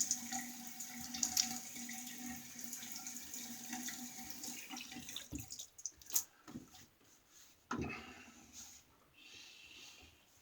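A bathroom tap runs steadily while a vintage Schick Instamatic or Gillette band razor is rinsed under it, a faint close hiss of water broken by splashes and small knocks, with no one talking.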